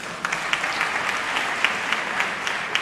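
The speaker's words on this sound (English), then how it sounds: "I think it needs a round of applause." Steady audience applause fills a university academic-year opening ceremony hall, a dense wash of many hands clapping at even volume with no voices over it.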